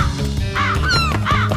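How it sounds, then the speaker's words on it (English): Cartoon crows cawing hungrily at an open corn silo, loud repeated harsh caws in quick succession, close and alone. "Now my corn's easy pickings for those hungry birds."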